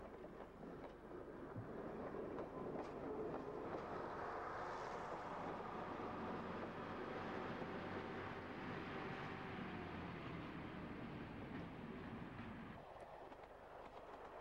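A diesel multiple unit train rumbles past at moderate distance near Wymondham, its steady roar swelling through the middle and fading toward the end, with faint rail clatter.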